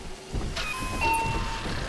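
A doorbell in the Bioshock 2 video game gives a two-tone ding-dong chime, a bright, clear pair of notes over a low background hum.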